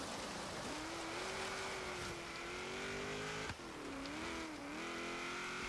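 The engine of a 1967 Chevrolet Corvette Stingray in a Forza racing game hums at a steady drone, rising and dipping in pitch as the car accelerates and eases off, with no speech.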